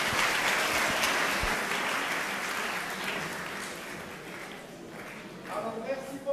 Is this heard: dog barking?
no